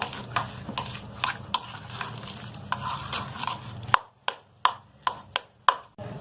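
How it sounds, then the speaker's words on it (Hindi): A potato pakora mixture with cumin and green chilli is worked by hand or spoon in a bowl, repeated close scraping and squelching strokes, then sharper separate taps against the bowl near the end. "और इन सबको अच्छे से मिक्स कर लेंगे।"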